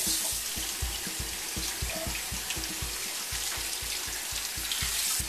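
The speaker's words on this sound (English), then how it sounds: "I'm going to run some cold water over the sides of this pan to kind of get the noodles" Cold tap water runs over a pan of strained noodles in a kitchen, a steady hissing splash with a rapid pulsing patter as the stream hits the metal, constant and close throughout.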